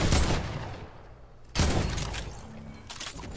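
Gunfire in the Fortnite video game: two loud sharp blasts, one at the start and another near the middle, each trailing off, with further fainter shots and game noise later.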